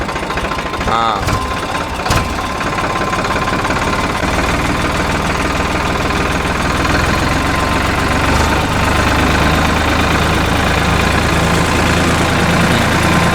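Tractor engine running steadily during a first driving lesson on a village outing, a loud continuous rumble throughout with people talking over it.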